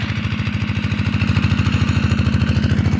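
A small tractor engine runs steadily close by, a loud rapid chugging pulse that holds an even rhythm throughout with no talk over it.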